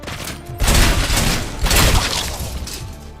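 Enemies open up with heavy guns in RoboCop: Rogue City, a loud, rough barrage of booming shots and crashing impacts that swells in two heavy waves with no talking.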